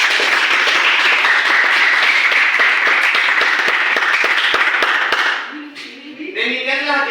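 A classroom of students claps for their classmates in loud, dense applause for about five seconds, then it fades out and a voice begins talking.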